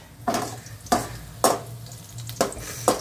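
Chawali leaf vegetables rubbed with salt and garlic tossed into a hot pan, bursts of sizzling and scraping stirs recurring about every half second, close and crisp over a low steady hiss.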